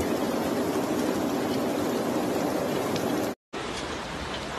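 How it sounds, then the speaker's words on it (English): A dense, continuous rush of heavy rain during a strong rainstorm in Porto, Portugal, even and unbroken, with a brief gap of silence near the end before the downpour resumes. "a strong rainstorm hits the Portuguese city of Porto"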